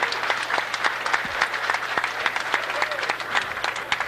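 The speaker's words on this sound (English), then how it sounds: "the applause is certainly indicative to the performance" Audience applause fills a 1995 US Open 9-Ball Championship pool hall after a match, steady dense clapping throughout with a faint background hum.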